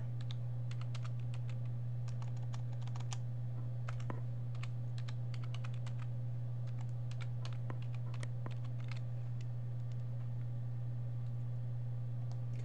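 Keys clatter on a computer keyboard in quick, uneven bursts during an Ubuntu upgrade, faint and close over a constant low electrical hum, with no voices.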